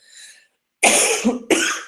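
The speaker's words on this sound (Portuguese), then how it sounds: "Desculpa, mas eu tô com um pouquinho de tosse" A faint breathy sound, then two loud, harsh coughs close to the microphone.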